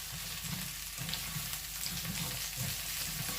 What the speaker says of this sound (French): je vais ajouter mes carottes et mes courgettes